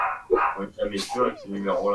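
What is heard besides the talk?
dog barking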